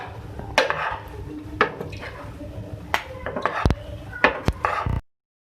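Beef tikka macaroni with chopped green chillies is scooped from the pan into a serving dish, giving several distinct clinks and scrapes of a utensil on cookware in an irregular rhythm, fairly close.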